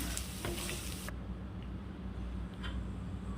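Onions and green chillies sizzle and crackle in a pan as they are sautéed for a prawn curry, with loud hissing at first that drops to a softer, steady fry.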